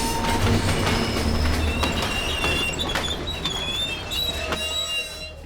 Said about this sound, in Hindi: मेरी ट्रेन आ गई है।